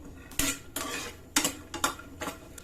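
A spoon scrapes and clanks against a pan while stirring and dry-roasting a mixture for kesar badam milk powder, giving several distinct metallic strokes in an irregular rhythm, close and moderately loud.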